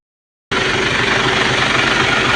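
After half a second of silence, a Mitsubishi Fuso 6R10 truck engine runs loud and close with a steady, rough diesel rumble and knocking texture that continues without pause.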